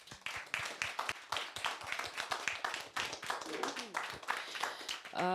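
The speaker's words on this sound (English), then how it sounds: "we could make a little applause for him" Scattered clapping from a small audience at a talk during the visit of Saleh Sidmustafa from Western Sahara, sharp uneven claps close by with a voice breaking in near the end.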